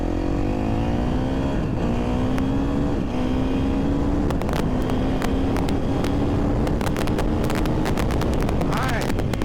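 A 2023 KTM 350 SX-F dirt bike with a Vortex ECU revs upward, its engine note climbing, dropping at a gear change and climbing again, under heavy wind buffeting with a rider's voice over it.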